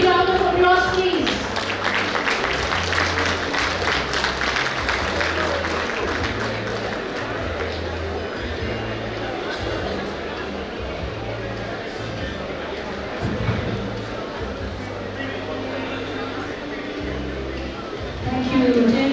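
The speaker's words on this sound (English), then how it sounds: "A big round of applause, please." Audience applause at a Rotary district conference, a sustained dense patter of many hands clapping in a hall, steady for most of its length before tapering off, with a voice speaking over it near the end.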